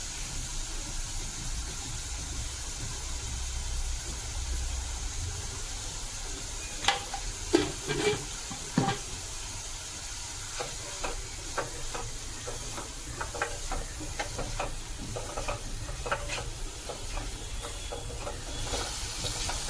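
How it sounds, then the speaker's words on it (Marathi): Onion and tomato fry in a pan with a little salt for Malvani kalva, a low steady sizzle with bursts of quick spatula scraping and clinks midway, no voices. "कांदा टमाटर भाजून झालाय."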